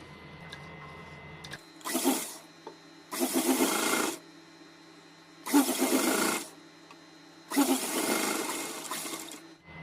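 A sewing machine stitches a straight fabric strip in four loud whirring bursts of a second or two each, separated by short quiet pauses, with no voices.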